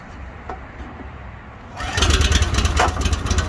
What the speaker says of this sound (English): 13 horse engine started.